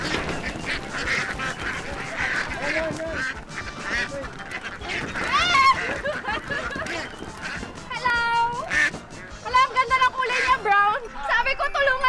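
Ducks being caught for cooking, giving scattered nasal quacks and honks amid overlapping people talking, fairly close and lively throughout.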